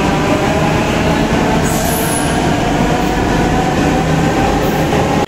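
A Delhi Metro train running between the Yellow and Blue lines toward Rajiv Chowk and Patel Nagar: a loud, continuous rumble of the carriage close by, with a brief high wheel squeal early on and another near the end.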